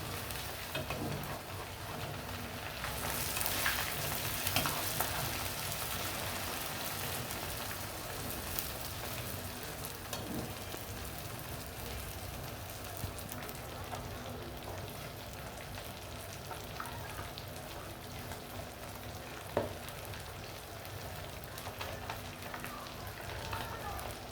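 Masala-coated fish frying in oil in a pan gives a steady, dense sizzle with soft crackles and a few brief clatters as the pieces are turned, continuous throughout.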